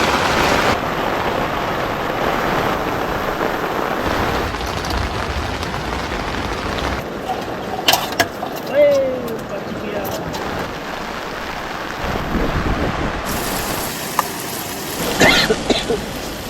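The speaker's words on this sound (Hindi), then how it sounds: "बारिश काफ़ी अब तेज़ हो रहा है, क्या गरज रहा है भाई" Heavy rain pours steadily at a campsite in Jharkhand, a dense continuous wash with a few sharper knocks and rumbles that may be thunder, while someone talks over it.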